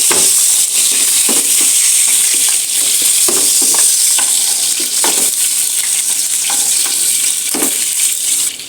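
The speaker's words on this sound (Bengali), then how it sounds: "এবার 2 পিঠে সমানভাবে আমি ভেজে নিব।" Large river fish, about two kilograms, fry in hot oil in a home kitchen, a loud continuous sizzle with occasional spatters and stirring clinks, turned to cook both sides evenly.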